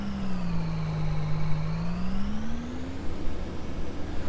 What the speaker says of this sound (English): And we're going to do this with a tractor.